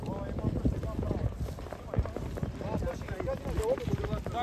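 Trotting horses' hooves clip-clop during a harness race in a village, quick irregular beats under constant excited race commentary and outdoor crowd noise.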